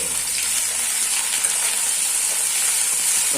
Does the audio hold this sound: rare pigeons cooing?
no